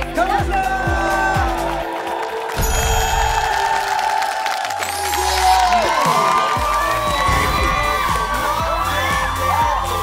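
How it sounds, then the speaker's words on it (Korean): A studio audience at a Korean TV talent show cheers, whoops and applauds loudly over blaring musical stings and sound effects, with voices shouting in the mix. "보여주신 이범준 씨에게 뜨거운 박수 부탁드리겠습니다."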